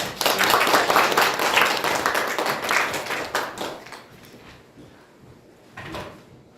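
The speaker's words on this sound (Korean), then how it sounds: "역시 큰 박수로 환영해 주십시오." Audience applause at a Korean policy forum on the right to repair and a circular economy, welcoming a lawyer to the podium; loud dense clapping that fades after about four seconds, with a short final burst.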